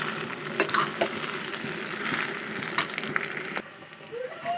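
Taro leaves are tipped into a pan of oil with browned garlic and stirred, producing a dense crackling sizzle with a few sharp knocks. The sound cuts off abruptly near the end.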